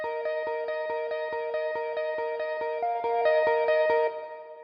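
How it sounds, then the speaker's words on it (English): A reverb-drenched guitar pattern in a future bass track plays a steady run of evenly spaced plucked chords, rising in pitch toward the end before its wash of echo fades out. "Maybe let's put some reverb on it."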